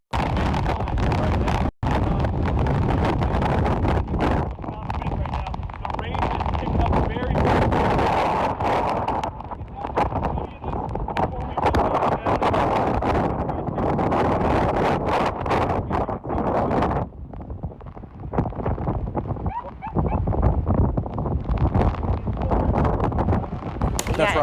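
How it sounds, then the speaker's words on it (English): Hurricane Ida's strong wind roars and buffets a microphone outdoors, heavy gusting rumble filling nearly the whole stretch, with a voice speaking underneath and one brief cut-out early on. "the wind is really picking up"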